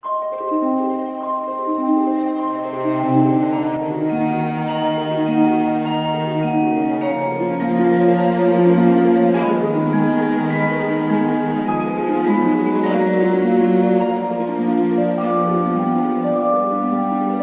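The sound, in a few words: orchestral music with cello melody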